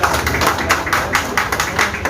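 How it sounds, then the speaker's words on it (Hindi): Audience at a Bihar BJP OBC Morcha political gathering breaking into a loud, dense burst of clapping to greet a guest, sustained and steady throughout with no talk over it. "मैं चाहूंगा एक जोरदार तालियों से उनका भी स्वागत हो।"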